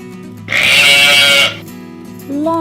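A lamb gives one loud, near bleat lasting about a second, followed by quieter background, then the start of another tonal animal call.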